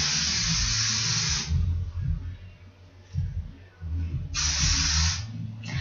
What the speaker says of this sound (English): I use way too much hairspray